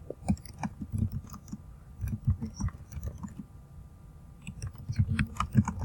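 Typing on a computer keyboard while formatting a Word document, quiet irregular bursts of close key clicks with short pauses and no talking.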